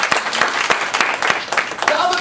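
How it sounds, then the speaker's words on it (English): An audience at a Kaplan talk claps steadily, a dense patter of many hands filling the room at moderate loudness, with speech mixed in. "Okay, you can clap for that."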